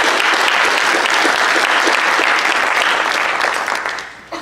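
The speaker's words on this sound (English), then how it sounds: "So let's give them one more round of applause." Audience applause at a panel discussion on a community social worker program, a steady dense clapping that holds loud and even for about four seconds before tapering off at the end.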